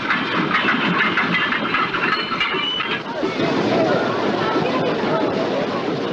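A train running in the film Horror Express: a continuous rolling rumble with rhythmic rail clatter, loud and close, with voices talking over it.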